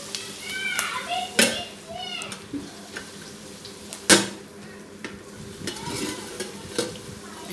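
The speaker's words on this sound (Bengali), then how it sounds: "এখানে মাছের তেলটা আমি ভেজে নিচ্ছি পেঁয়াজ, কাঁচা লঙ্কা দিয়ে" Fish oil fries in a pan with onion and green chili, sizzling softly under repeated sharp stirring and scraping clanks, while a voice talks over it.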